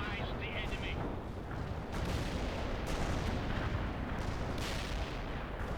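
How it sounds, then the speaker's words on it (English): Artillery barrage in the World in Conflict video game, a continuous dense rumble of explosions and heavy fire with sharp blasts around two and three seconds, loud throughout with speech faintly mixed in. "Don't really want to move into that area when the artillery is being dropped"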